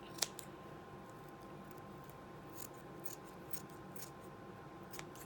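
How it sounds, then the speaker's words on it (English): Dull scissors needing sharpening snip through fabric while altering a LuLaRoe Deanne garment, giving a soft steady rasping crunch with faint scattered clicks under a constant low hum, quiet and close, with nobody speaking. "And I need new scissors."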